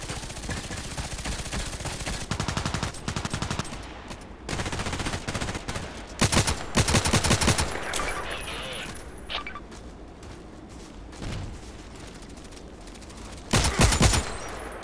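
Rapid bursts of RFB rifle fire in Contract Wars rattle out close and loud in repeated volleys, with brief pauses between strings of shots and a final heavy burst near the end.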